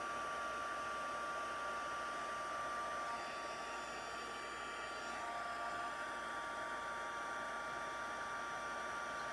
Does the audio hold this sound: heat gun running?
yes